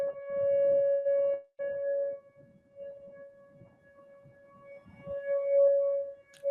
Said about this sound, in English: I would guess testing a tornado alarm or something.